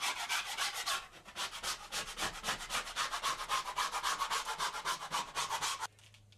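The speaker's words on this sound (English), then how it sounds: "now I'm going to use my taping knife again across this seam where we've got this bubbled up area" A metal taping knife scrapes repeatedly across a bubbled drywall seam, making a steady run of close, raspy back-and-forth strokes that stop abruptly near the end.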